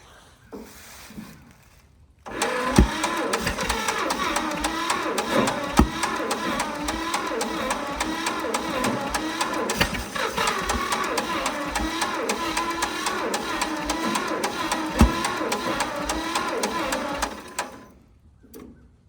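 An abandoned tractor left sitting for 15 years runs rough with a sticking valve, producing a rapid, uneven mechanical chatter and knocking that starts abruptly, holds for about fifteen seconds and then cuts out.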